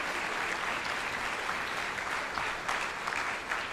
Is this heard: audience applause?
yes